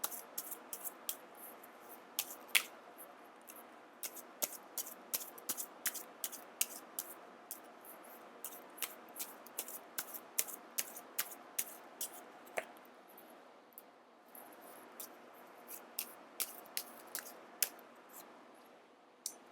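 Tarot cards are handled and pulled from a deck in a quiet room, making a steady run of crisp papery flicks and taps in quick clusters, close and fairly soft.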